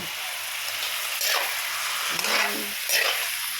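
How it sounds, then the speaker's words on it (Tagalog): Chicken sizzles and fries in a pan, a steady hiss with a few louder swells where the pieces are stirred, all close and fairly quiet with no talking. "Igisa natin siya hanggang sa maprito-prito siya"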